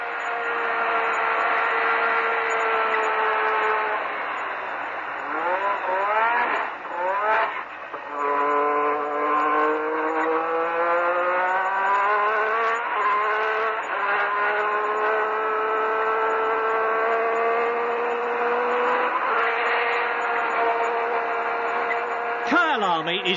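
Turbocharged Formula One cars at a Grand Prix race past at high altitude, engines whining and rising through gears with pitch sweeping up and down, a loud continuous roar of several cars under commentary.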